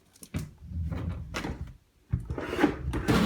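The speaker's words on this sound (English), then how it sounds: "So I'll open up the closet now. It's like double doors." A bedroom closet's double doors are opened up close, giving a quick series of rattling clicks, knocks and scraping slides with short pauses between them.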